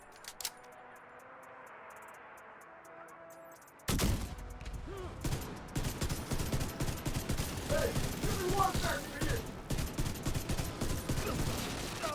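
Sustained automatic gunfire from a gun in The Division 2, a fast, even stream of close, loud shots that starts abruptly after a quiet stretch and keeps going, with faint voices underneath.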